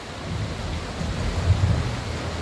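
Heavy rain with thunder pours steadily in a dense, continuous roar that is broad and full, with a low rumbling undertone and no voices.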